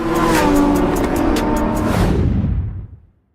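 A car in a film speeds off, its engine revving hard and loud, sustained for a few seconds before fading quickly into the distance, with no talk over it.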